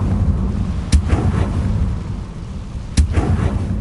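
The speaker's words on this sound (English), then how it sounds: "Confringo!" A Confringo fire spell in a Harry Potter video game blasts twice, sharp loud explosive booms about two seconds apart over a low rumbling background.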